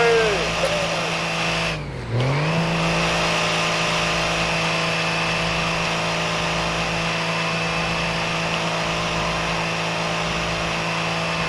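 A modded car in GTA 5 at a Fourth of July car show burnout competition, its engine holding a loud steady high-rev whine throughout after a brief dip, with a sustained droning roar from start to end.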